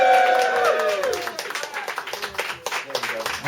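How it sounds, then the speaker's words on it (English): Audience at a 50th birthday party applauds the drink servers, a dense patter of clapping with cheering voices and chatter rising over it at first, then steady clapping continuing to the end. "Round of applause for them"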